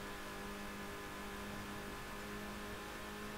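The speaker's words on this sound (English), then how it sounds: "listen to this car, like it's fucking banging itself to the end" Car engine from Need for Speed Underground (2003), a 1.8 turbo Golf, droning and straining steadily at a constant pitch throughout, loud and close with no talk over it.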